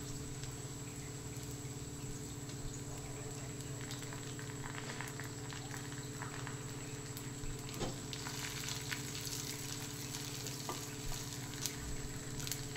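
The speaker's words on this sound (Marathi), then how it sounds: "पहा, अगदी 2 मिनिटांमध्ये हे छान असं परतत आहे." Grated potato sautés in a pan for a Marathi fasting-day potato dish, giving a steady, even sizzle throughout with faint stirring scrapes and a few soft clicks, and no voices.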